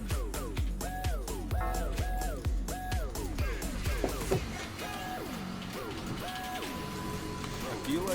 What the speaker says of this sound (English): That's the noise of a Gatling laser.